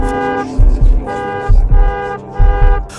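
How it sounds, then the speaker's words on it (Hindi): A black Alto car's horn honks loudly and repeatedly in short paired toots, close up, over a steady tonal background. "वो हॉर्न बजाता ही गया"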